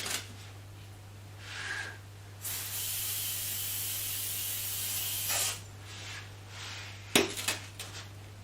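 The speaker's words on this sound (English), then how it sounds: "And again I'm going to spray it." Several bursts of spray hiss close by onto a copper bowl being enamelled, one short and then a long steady spray, followed by a sharp metallic tap and light clatter.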